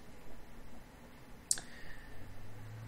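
A single sharp computer mouse click while working in GIMP, brief and fairly close against a quiet room background.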